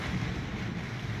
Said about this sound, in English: how the water is just battering because you got the wind and the water together